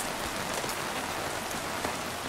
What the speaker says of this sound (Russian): Ой, дождь идет довольно шумно.